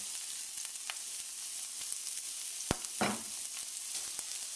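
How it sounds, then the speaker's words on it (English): Diced onion softening in oil in a pan on low heat, a soft, steady sizzle with a few light clicks and one brief stir, quiet and close. "I'm going to go in with 1 diced onion just to soften that up for a minute or so"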